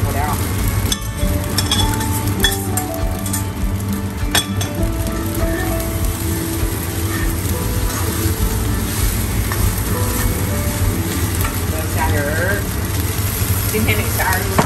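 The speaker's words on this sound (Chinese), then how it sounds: "所以一定多炒米饭， 炒出米饭香味" Rice stir-fried in a pan for kimchi shrimp fried rice gives a steady, close sizzle, with spatula scrapes and metallic clinks repeating throughout.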